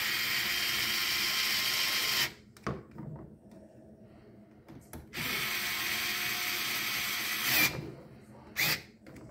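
A battery-powered electric screwdriver drives screws while installing a T-bone exo cage on a kaiju: two long, steady whirring runs, each a couple of seconds, separated by quiet handling clicks and a few short bursts.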